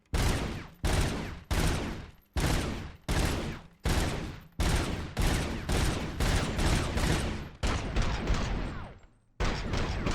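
Gunfire in Robocop: Rogue City, heavy, loud repeated bursts of automatic fire in separated volleys with brief pauses between them, nearly constant and up close.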